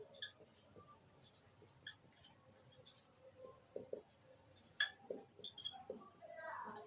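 A pen scratches on paper while quadratic-equation working is written out for a Class 10 maths problem: quiet, close strokes in short bursts, with faint clinks and a soft voice in the background.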